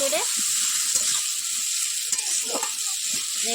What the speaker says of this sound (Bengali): এর মধ্যে দিয়ে দেবো খামালু আর আলু, এটা দিয়ে দিয়েছি। এবার এটা ভালো করে এবার নেড়ে